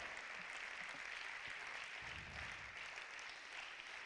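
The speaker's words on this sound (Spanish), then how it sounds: "Dale un aplauso al Rey de la Gloria" A church congregation claps together during a worship service, a steady, fairly faint wash of applause that holds evenly through the clip.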